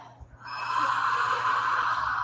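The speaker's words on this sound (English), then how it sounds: "go ahead and open your mouth and kind of yawn" A long, breathy yawn exhaled through a wide-open mouth, close and steady, following a short quiet pause.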